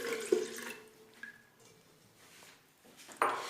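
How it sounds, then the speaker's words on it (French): Flavoured water is poured into a bowl of kaak dough mixture, a soft splashing pour with a couple of sharper knocks of the glass, close and fairly quiet without speech. "Je vais ajouter donc le verre d'eau aromatisée."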